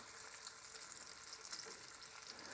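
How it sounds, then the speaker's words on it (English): A bacon and egg omelette with cheese sizzles in a pan, a quiet, steady crackling fry with a small pop partway through and no voices. "Just sizzling away."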